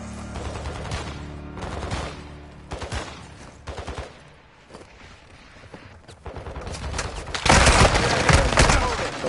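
Gunfire in a military shooter game crackles in dense bursts through much of the stretch, swelling into a loud sustained volley near the end, with voices talking over the action.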